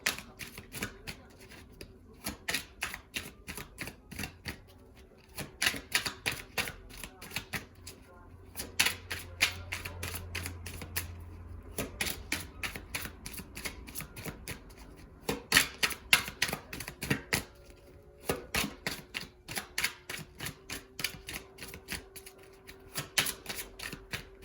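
Golden Tarot cards are shuffled by hand in repeated quick riffling bursts, close and crisp, with short pauses between runs and a faint voice in the background.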